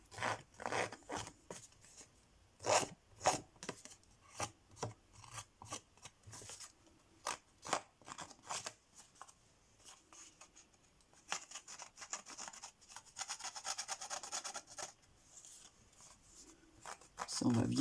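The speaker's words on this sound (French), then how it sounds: "Je vais le gratter un peu autour." Paper edges of a handmade Christmas basket card are scraped around with a scraper tool to age them, giving repeated short rasping strokes, then a longer steady scraping stretch, close and fairly quiet, with talking between strokes.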